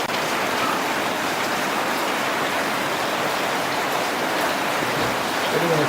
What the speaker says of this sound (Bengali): প্রচুর বৃষ্টি হচ্ছে, এই বৃষ্টির মধ্যে আমরা গরু দেখতেছি।